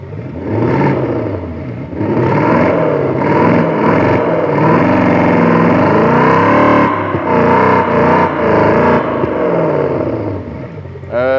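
A loud, rumbling Mercedes-AMG G63 exhaust note rises and falls as if revved, with an added echo effect giving a hollow, echoing electronic quality throughout.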